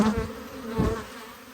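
Honey bees buzz close by at the hive, a brief, continuous droning hum with slight rises in intensity.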